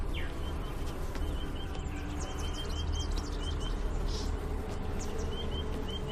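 Cyprian bees buzz steadily around an open hive outdoors, a dense continuous drone with some faint chirps over it.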